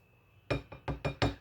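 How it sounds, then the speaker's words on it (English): A whisk rattles and clinks against a bowl while mixing dry baking ingredients, including baking powder, for a lemon loaf: about six sharp, evenly spaced strokes after a quiet start. "I'm just going to whisk these dry ingredients together."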